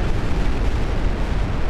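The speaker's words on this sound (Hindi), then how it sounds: "दक्षिण कोरिया के हिस्से वाले विवादित योनप्योंग द्वीप की ओर बेहिसाब गोले दागे।" North Korean artillery shells fired at disputed Yeonpyeong island in South Korean waters, heard as a loud, sustained rumbling roar of explosions, dense and low with no clear gaps.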